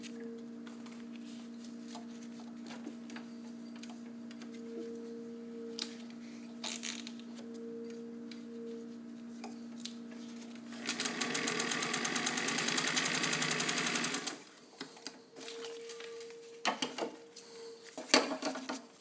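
A vintage all-metal Singer 201K sewing machine with a size 16 needle stitches through four layers of dense nylon, a steady mechanical whir lasting about three seconds after a low hum, followed by scattered handling clicks.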